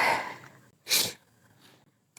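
One sharp, loud sneeze bursts out right after a soft inhaling build-up, then a quieter breathy snort follows in an otherwise hushed space.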